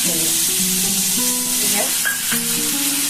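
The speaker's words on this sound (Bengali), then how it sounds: "এখানে আমি তেলের উপর দিয়ে দেবো পুরো পেস্টটাই দিয়ে দেবো" Ground spice paste of cumin, coriander, chilli, turmeric and ginger spitting and sizzling loudly in hot oil, up close, with stirring clatter and a few faint tonal clinks from the pan throughout, and no voices.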